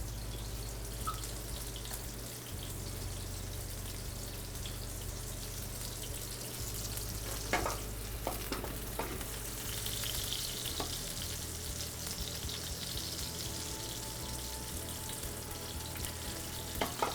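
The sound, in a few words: monkfish frying in a pan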